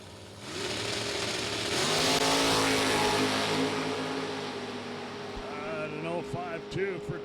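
A 1967 Chevrolet Nova wagon drag race car with a 565 cubic inch Chevrolet engine roars loud and steady at a hot rod reunion drag strip, engine note rising then easing over several seconds with commentary over it.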